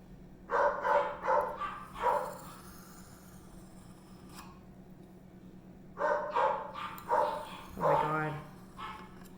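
A dog barks in two clusters of repeated barks, several in quick succession, separated by a quieter pause with a steady low hum in the background.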